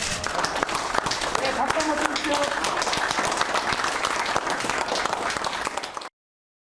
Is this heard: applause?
yes